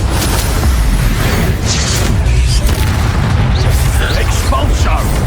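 A Confringo fire spell explodes in the Hogwarts Legacy game amid dense, loud booming combat noise, with a voice speaking over the constant rumble of blasts.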